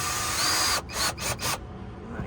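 A power drill drives screws into a bracket inside an Express van, whirring loudly in a continuous burst and then in three short pulses before cutting off, with no talk over it.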